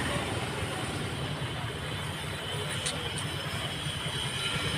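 A train at Guruvayur railway station in Kerala gives a continuous low rolling rumble, with two brief high-pitched squeals from the wheels partway through.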